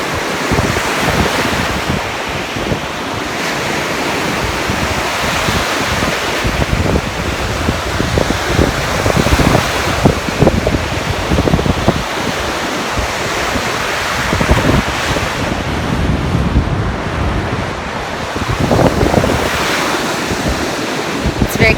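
Loud ocean surf rolls onto a cold beach at PJ Hoffmaster Park, waves crashing in repeated surges while strong wind buffets the microphone throughout, with no clear speech.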